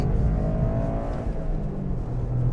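A 2023 Toyota GR Corolla GTS engine roars steadily at high revs through its triple exit exhaust, a deep throaty note with gear changes, loud and close with no talking.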